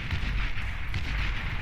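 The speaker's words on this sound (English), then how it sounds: "we see the lovely explosions at the end of the game here" Explosions at the end of a Beyond All Reason game form a dense, continuous rumble of booms and crackling blasts, loud and sustained with no clear break and no talk.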